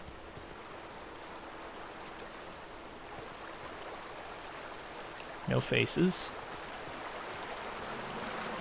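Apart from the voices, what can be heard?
running water stream in The Outer Worlds video game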